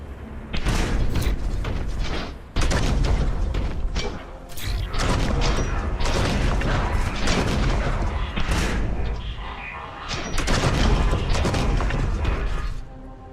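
Heavy bolter gunfire in the Warhammer 40,000 shooter Boltgun, loud repeated blasts and mechanical clanks in rapid bursts with brief pauses, filling the whole stretch.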